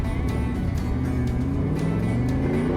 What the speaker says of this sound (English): you can hear right here where I take off that it's still stumbling and sputtering and not happy